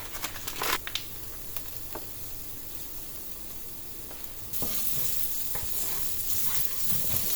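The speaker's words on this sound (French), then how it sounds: "Je vais rajouter... d'abord ma courgette, encore un peu d'oignon et du ras el hanout." Zucchini, onion and ras el hanout hit a hot pan with a steady close frying sizzle and some stirring scrapes; the hiss swells louder partway through as more goes in, with no talking.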